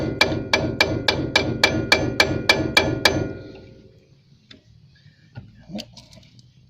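A hammer strikes a punch to drive a brake pin out of a Mercedes ML caliper, about a dozen sharp, evenly spaced metallic blows close up, then a few faint clinks and shuffles.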